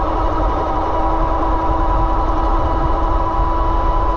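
A Bafang BBSHD mid-drive e-bike motor drives the chain with a steady close whine and constant mechanical hum, an even drone with a fixed pitch and no change over several seconds, with no one speaking.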